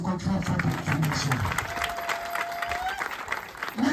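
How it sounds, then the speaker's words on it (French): A stand-up comedy audience breaks into sustained applause and clapping, a dense, steady wash of hands filling the room, with a voice talking over the start. "Alors applaudissez encore très fort pour Dieu."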